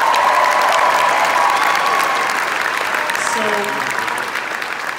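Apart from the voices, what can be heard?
round of applause for the band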